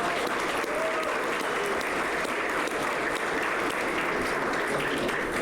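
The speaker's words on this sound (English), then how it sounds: "I'd ask all the non-award winners to give a round of applause for those who are recognized today" Steady, dense applause fills an awards ceremony hall as a large audience claps continuously for student award recipients at a college of public health event, sustained and even throughout.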